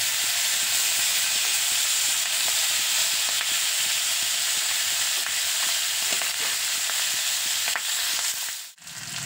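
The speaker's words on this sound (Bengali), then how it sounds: "এবার আমি মাছগুলো এক এক করে তেলের মধ্যে দিয়ে মাছগুলোকে ভেজে নেব" Rohu fish pieces frying in hot oil in a kadai, a loud, steady, dense sizzle with a faint crackle, heard alone until a short dip just before the end.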